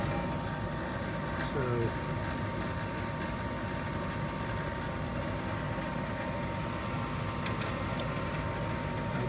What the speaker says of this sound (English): Here comes the blower.